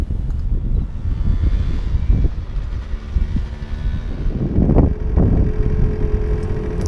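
Two military aircraft passing overhead near a beach on Nantucket make a low, distant roar. Heavy wind buffeting is mixed in, and the sound swells slightly toward the end.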